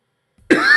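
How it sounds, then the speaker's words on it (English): A single sharp cough from a man who is ill, bursting out after near silence and holding loud for a moment. "I thought I was going to sneeze there. I coughed instead."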